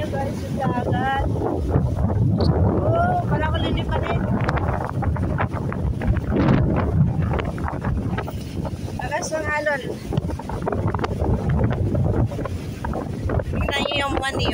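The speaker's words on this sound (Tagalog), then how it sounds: "Lakas ng hangin, ang lakas." Strong wind at sea after a typhoon roars and buffets against the microphone continuously from a boat, a loud steady rush with people talking over it throughout.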